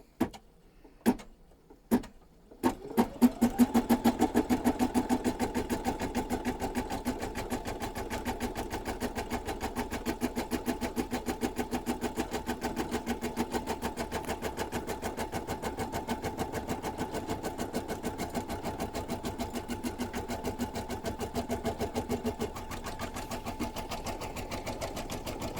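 Embroidery machine stitching a gnome hat: a few sharp taps at first, then a steady, fast, rhythmic needle clatter running close and continuous to the end.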